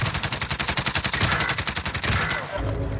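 Rapid bursts of automatic gunfire crackle through a Call of Duty Modern Warfare firefight, a steady rhythmic stream of loud close shots that briefly pauses before a heavier blast near the end.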